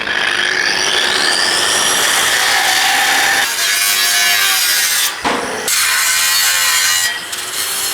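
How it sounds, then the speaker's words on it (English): An angle grinder cuts into a steel tiny-home base frame with a loud, continuous abrasive whine and rasp. The pitch shifts as pressure changes, and the grinding briefly dips around the five-second mark. "Now I'm ready to grind it."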